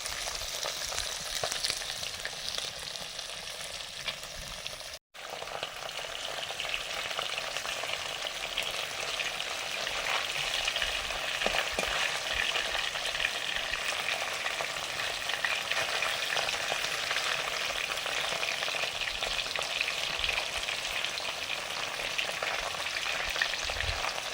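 Fish fries in oil in a pan as a continuous loud, close sizzle with crackling spits and a few stirring sounds, cut by one brief silent gap near the start.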